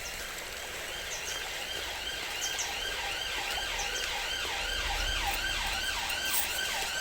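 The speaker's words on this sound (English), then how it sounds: "It's an ambulance, it's nothing." An ambulance siren wails in a steady, repeating rising-and-falling pattern, somewhat distant, over a constant hiss of background noise.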